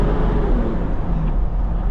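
A Toyota Land Cruiser turbo diesel pulling in second gear, a loud steady low engine drone with road rumble heard from inside the cabin, no talking.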